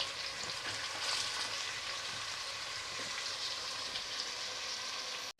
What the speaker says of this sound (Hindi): मीडियम फ्लेम पर रखकर हम चिकन को भून लेंगे